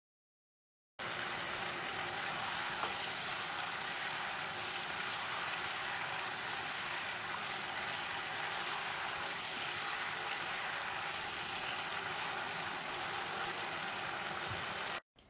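Chicken simmering in sauce inside a covered pan, a steady dense bubbling hiss that runs evenly throughout at moderate level, with no talking.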